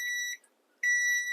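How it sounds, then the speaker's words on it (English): A microwave timer beeps after twenty seconds of melting chocolate, two clear electronic tones separated by a short pause, close and alone with no talk. "So I've got it on for 20 seconds. When that beeps, we're good to roll."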